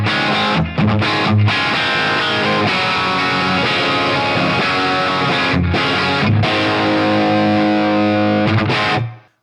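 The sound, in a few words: electric guitar through BT PT50 pedal's last driven preset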